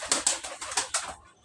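Pigeons cooing close by: a quick run of about six rhythmic coo pulses, fairly loud and near, fading out at the end with no talk.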